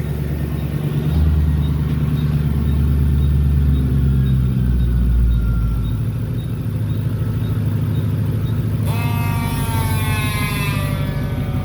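A car engine runs steadily during a transmission fluid flush, a low continuous rumble throughout, with a brighter whining mechanical tone rising near the end; no talking.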